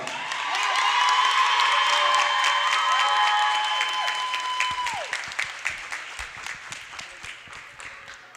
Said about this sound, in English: let's give it one more round of applause to Bella.